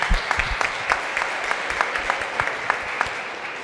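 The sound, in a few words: audience applause for the speakers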